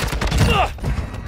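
Rapid burst of gunfire in Call of Duty MW2 ranked Hardpoint play, loud and close, a quick rattling volley lasting about a second.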